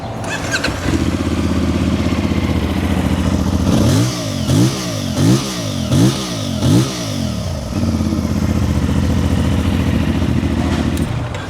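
A 450cc CFMoto MT450 motorcycle engine idles loudly up close, then revs sharply in several rising and falling bursts before settling back into a steady idle.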